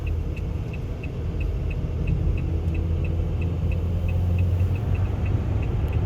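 A car drives along the main street near the Nürburgring with a steady low engine rumble and road noise from inside the cabin, along with a regular ticking, like an indicator, that repeats evenly throughout.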